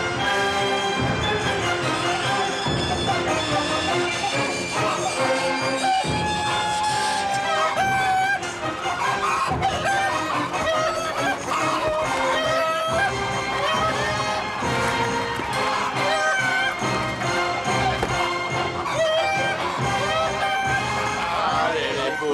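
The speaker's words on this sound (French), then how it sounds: "Des poules." Hens clucking and a rooster crowing in a French comedy film scene, mixed into a busy, dense soundtrack that stays loud throughout.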